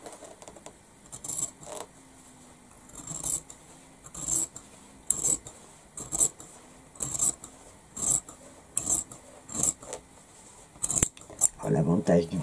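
Scissors snip through fabric bias tape in a series of short, close, crisp cuts spaced about a second apart, with quiet pauses between them and someone speaking French intermittently.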